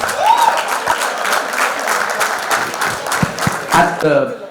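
An audience at a school reunion silver jubilee celebration breaks into steady applause, dense clapping filling the room for several seconds before fading near the end.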